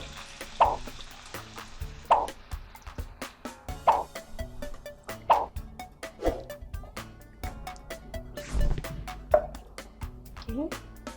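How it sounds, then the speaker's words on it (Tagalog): Coconut milk poured into a chickpea curry in a pan, with repeated soft plops and stirring strokes every second or so over a low simmering sizzle, close by; a voice speaks in places. "Then, let's add our coconut milk."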